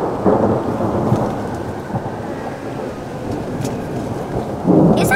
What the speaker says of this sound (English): Everyone listen, because there'll be thunder in a minute.